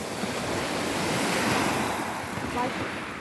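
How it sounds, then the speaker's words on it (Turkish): Sea waves wash steadily onto Aktaş beach, a continuous broadband surf roar with gusting wind buffeting the microphone and no clear voices. "burası Aktaş plajıymış"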